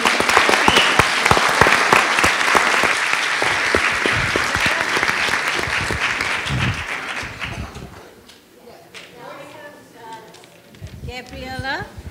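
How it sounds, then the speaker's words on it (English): Audience applause at a library Books & Coffee author event, a dense round of clapping sustained for about eight seconds before fading, then speech takes over near the end. "And please give her a round of applause."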